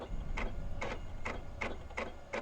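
A printer in the video game The Arrangement runs with a steady mechanical whir and a regular series of five or six sharp clicks or thunks, close and moderately quiet.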